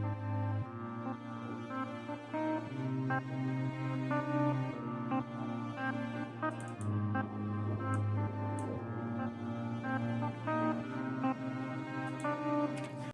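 Sustained orchestral string pad from a Kontakt factory library, layered into an Afro house arrangement in FL Studio. Held chords shift every few seconds over a steady low bass, with occasional high percussive ticks, and the level stays even throughout.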